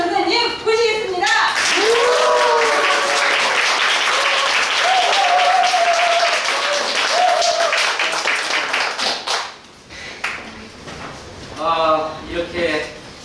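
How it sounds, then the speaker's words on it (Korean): An audience at a Gachon University lecture event clapping and cheering loudly as a speaker is welcomed, dense close applause that fades near the end, with talk and a voice on a microphone over it. "우리 모두 일어나서 큰 박수와 함성으로 모셔보겠습니다"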